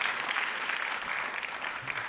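A church congregation claps together in a dense, sustained burst of applause, fairly distant and even, with no clear voices over it.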